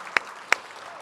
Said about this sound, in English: Could we give all of these people a huge round of applause?